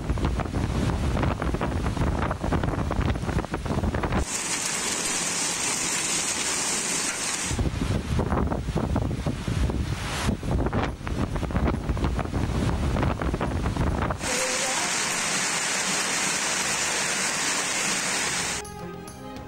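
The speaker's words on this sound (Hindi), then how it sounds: "जुमे के सुबह जुड़वा शहरों रावलपिंडी और इस्लामाबाद में तेज़ हवाओं के साथ मूसलाधार बारिश हुई।" Strong wind and heavy rain over the twin cities of Rawalpindi and Islamabad make a loud, continuous roar with buffeting gusts that rise and fall in sections, heard alone with no speech.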